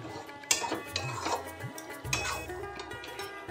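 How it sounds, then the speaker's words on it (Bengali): A spoon stirs beaten sour yogurt into a pan of pointed gourd and paneer curry, with scraping and clinking of metal against the pan in a steady, close rhythm and no talking. "ফেটানো টক দই দিয়ে কয়েক সেকেন্ড মাত্র নেড়ে নেব"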